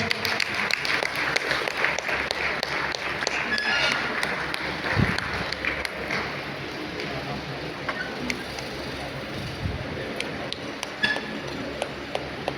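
Audience clapping at a Talamaddale performance of Sahadeva Digvijaya, a continuous spread of crowd applause with scattered sharper claps and clinks over about twelve seconds.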